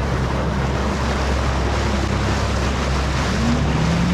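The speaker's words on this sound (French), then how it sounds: "Bateau à 500 chevaux, il arrive vers nous là." A powerful 500-horsepower motorboat engine drones nearby at sea over rushing waves and wind buffeting the microphone, its pitch slowly rising as it approaches.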